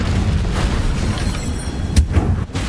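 The Confringo fire-blast spell from the Hogwarts Legacy video game erupts in booming explosive bursts over a dense, rumbling wash, with a sharp crack standing out near the end.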